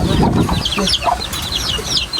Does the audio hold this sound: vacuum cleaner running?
no